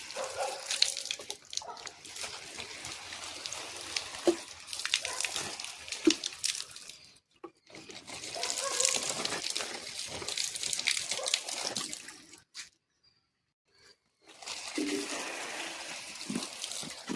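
Water from a tap pouring over vegetables being washed, a continuous hiss and splash that stops briefly twice, at close range with no talk.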